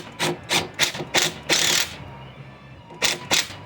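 Ratcheting on a torque clamp fitted to the throttle body of a supercharged M90 3800 engine in a Firebird, a run of close, loud rasping strokes in quick rhythm, a brief pause, then two more strokes.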